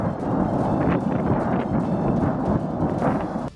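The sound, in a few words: explosions at an army weapons depot in Ryazan, Russia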